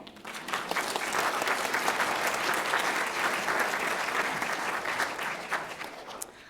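Sustained congregation applause during a Sunday church service, a thick even roar of many hands clapping from start to finish.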